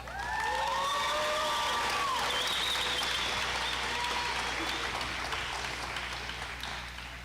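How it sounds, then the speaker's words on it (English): A graduation audience at a military academy applauds a speaker. The sustained clapping of a crowd comes with scattered cheers and high whistles, strongest early and tapering slightly. "You want applause the whole time?"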